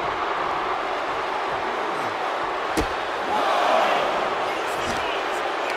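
A loud arena crowd roars continuously in the WWE 2K24 wrestling video game, swelling briefly near the end, with a single sharp impact partway through and commentary talking over it.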